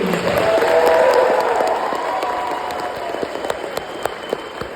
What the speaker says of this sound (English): If we can give them a round of applause, please.